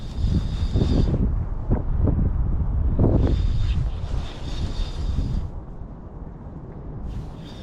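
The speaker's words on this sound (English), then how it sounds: "Man, I wish this wind would lay down a little bit." Wind gusts buffet the microphone outdoors during a spring turkey hunt in Michigan, a loud, rumbling roar that swells and eases in waves, with a faint steady high tone above it.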